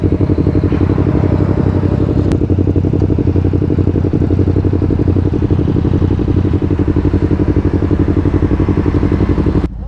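A Yamaha R3 motorcycle fitted with an Akrapovic full exhaust system holds high RPM, a loud, close, continuous raspy engine drone with a fast pulsing beat that barely varies throughout.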